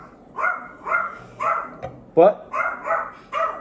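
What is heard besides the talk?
dogs barking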